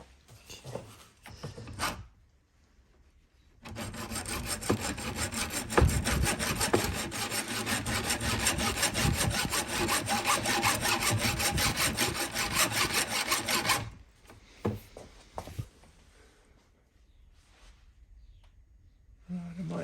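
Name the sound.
hacksaw cutting a 1:18 Holden Monaro model car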